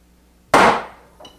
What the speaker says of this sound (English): I'm just going to chop down halfway.